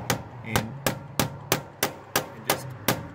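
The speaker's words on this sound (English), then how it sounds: "just get a chisel and a hammer" Hammer strikes a chisel against a one-way screw on a security door, nine evenly spaced sharp metallic knocks, close and fairly loud, with no talk.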